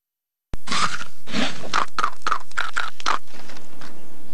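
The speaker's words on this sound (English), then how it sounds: "Once you've had Christie Crunchers, no crunch is the same." Christie Crunchers crackers being bitten and chewed up close, a series of about eight crisp, loud crunches in an uneven rhythm after a brief silence, with no talk.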